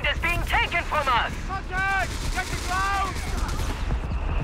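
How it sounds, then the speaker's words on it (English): Company of Heroes 3 artillery barrage in a 2v2 online match: a dense run of booms and crackling gunfire-like blasts keeps going under two commentators talking over the whole stretch. "That was the registered artillery of Dima."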